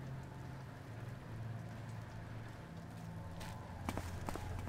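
Steady rain hissing and pattering inside a small room in the stealth video game Thief, a dense continuous wash with a low hum beneath and a few sharper tapping drops near the end.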